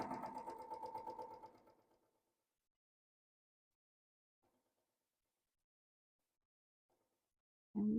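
A sewing machine stitches a log cabin quilt block seam in a steady, fast mechanical run for about two seconds, then stops; a loud thump follows near the end.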